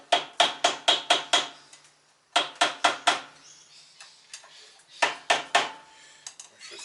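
Sharp metallic taps from a screwdriver driving a front wheel bearing into place on a Mazda CX-7, three quick bursts of four to five evenly spaced hits separated by pauses, close and loud.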